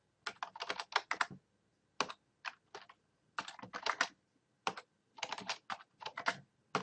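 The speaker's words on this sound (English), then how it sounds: "So I'm just going to type in the rest of it." Computer keyboard typing in quick bursts of clicky keystrokes, entering a math expression into a graphing utility, close and clear with short pauses between flurries and no talking.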